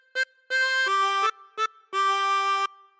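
A chromatic harmonica plays one phrase of Old MacDonald Had a Farm: five clear reedy notes, short-long-long-short-long, with brief silences between them, close and unaccompanied.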